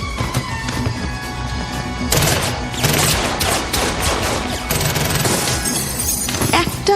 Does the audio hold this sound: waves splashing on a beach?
no